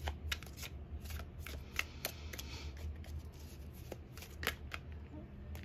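Tarot cards being shuffled for a reading, a close run of quick papery riffles and flicks in uneven bursts, fairly quiet.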